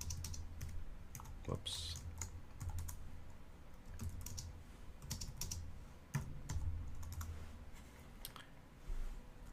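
Code being typed on a computer keyboard: quick, close clicks in uneven bursts over steady low hum, with a brief spoken word.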